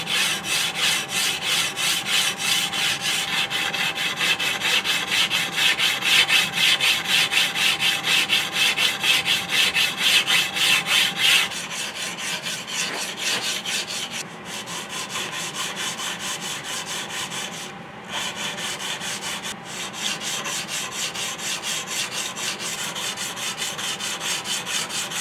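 Sandpaper working over the wooden stock of a Kibler Woodsrunner flintlock muzzleloader kit makes a loud, continuous rapid back-and-forth rasp close up for the whole stretch, with a brief dip partway through and no speech.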